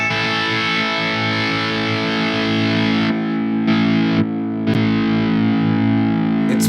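Distorted electric guitar run through Gig Performer effect patches on an aging MacBook, a steady chord held while the tone changes abruptly several times, with brief dropouts and small glitches between patches.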